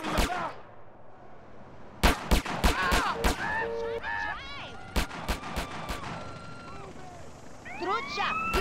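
Gunfire and explosions in the video game GTA San Andreas, with sharp loud bangs in quick bursts mixed with honking, siren-like wails and shouting voices.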